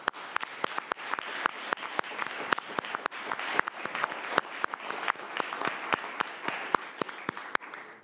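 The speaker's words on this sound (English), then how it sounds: "just give him a round of applause" Applause for Principal Cook fills a city commission meeting room, a moderate crowd clapping steadily with sharp individual claps standing out, fairly distant and continuous from start to finish.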